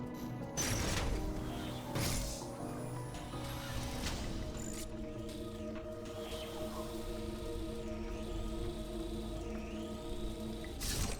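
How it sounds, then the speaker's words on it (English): Mechanical whirring and clanking machinery in the video game Metroid Dread, a sustained layered hum with ratcheting clicks and occasional rising electronic sweeps, heard alone at moderate volume. "There's like this mechanical whirring"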